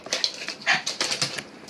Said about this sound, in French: Ça, c'est mon chien. Je le reconnais maintenant.